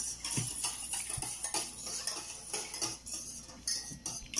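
A utensil stirs eggs for leche flan in a bowl, with quiet, close clinks and taps against the dish at an irregular rhythm.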